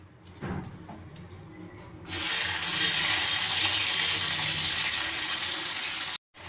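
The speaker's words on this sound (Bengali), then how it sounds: "এর মধ্যে আমি পনিরগুলো দিয়ে আমি পনিরগুলোকে ভেজে নেব।" Paneer frying in hot butter and white oil, a loud steady hiss and crackle that bursts in after a quieter start and holds evenly until it cuts off near the end.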